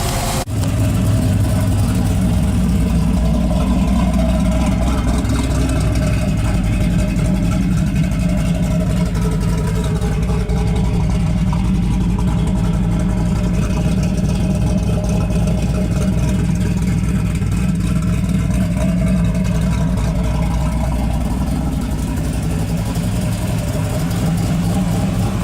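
A 1973 Chevrolet Camaro engine runs steadily at idle near the microphone, a continuous loud rumble with low pulsing throughout and no voices.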